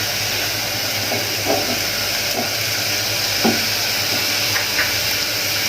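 Ginger paste frying in a pan, a constant loud sizzling hiss with a few faint scrapes of a utensil stirring, no voices.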